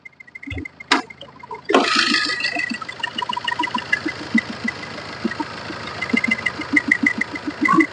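A Tata Manza car's engine starts with a loud burst and settles into a steady idle with a rhythmic ticking knock, heard close up.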